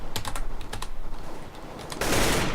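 Keyboard key clicks while strafing in the shooter CS:GO, several sharp close clicks in quick pairs, then a loud burst of broadband noise like gunfire toward the end, with no talk.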